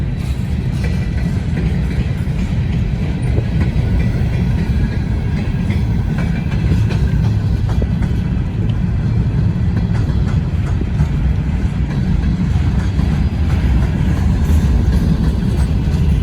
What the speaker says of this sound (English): CSX hopper, that big one just went by, it was just freshly painted.